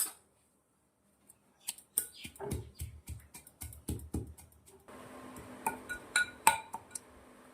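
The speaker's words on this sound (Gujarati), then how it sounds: "લસણ મરચાં અને ધાણાની ડંડી કૂટી લેવાની છે" Garlic, green chillies and coriander stems are pounded by hand, with salt added. A series of sharp, irregular knocks and thuds follows a short quiet start, close and moderately loud.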